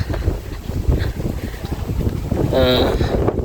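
Steady wind buffets the microphone at Kodanad View Point in Ooty, a constant rushing roar with a brief whistling tone near the end.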